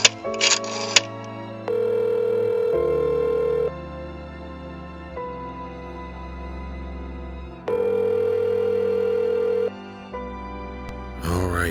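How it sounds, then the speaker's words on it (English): A phone being dialed in a horror-themed story, heard as a sequence of steady electronic tones: short beeps, then two longer sustained tone blocks separated by a pause, closing with a brief sweep. "Well, Mr. Harvey, I do believe you have a phone call to make."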